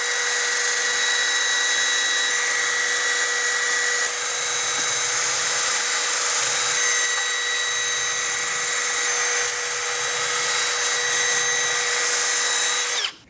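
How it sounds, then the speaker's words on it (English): A spinning wire brush cleans the rotor mounting surface on a 2009-2017 Audi Q5 during a rear brake job, a steady high-pitched motor whine with scratchy abrasion held for about thirteen seconds before stopping. "We can clean the mounting surface for the rotor using a wire brush."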